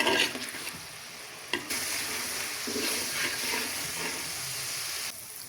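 Onion being sautéed and stirred in a pan for a hilsa fish curry: soft steady sizzle with occasional stirring scrapes, quiet and close, no talking.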